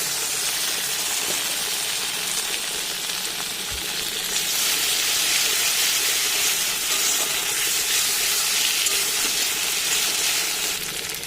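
Ginger, garlic, cumin and chilli paste sizzles and spits in hot oil with a loud, continuous hiss that stays fairly even throughout, with no voices.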